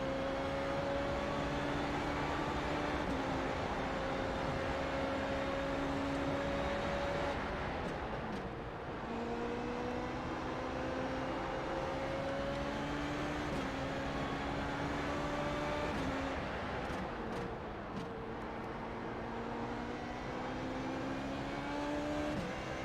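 A Formula Renault 3.5 single-seater in iRacing at Watkins Glen is held at full throttle. Its engine drone climbs steadily in pitch through each gear, with two brief dips at the shifts, loud and continuous with no talk.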